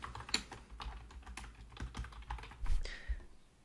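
Someone types on a computer keyboard, a close run of quick uneven key clicks and taps lasting a few seconds with no speech.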